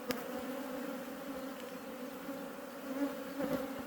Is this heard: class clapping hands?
no